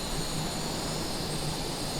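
Airliner jet engines in Microsoft Flight Simulator 2020 spooling up to full takeoff thrust, a steady, loud broadband roar with an even whine that holds constant throughout.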